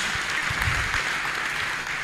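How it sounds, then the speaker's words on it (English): A short burst of congregation clapping during a church testimony, a dense, even patter of many hands over two seconds. "Somebody clap for Master Jesus."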